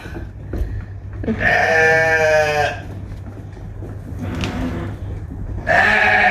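Sheep on a farm in Norway give three loud, drawn-out bleats, each lasting about a second, over a low steady hum.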